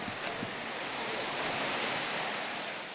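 A waterfall along a mountain path to school in Bolivia gives off a constant, even rushing hiss of falling water, steady and uniform with no voices.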